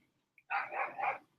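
Dogs barking indoors in a short burst: a quick yip, then a close, loud flurry of overlapping barks lasting under a second.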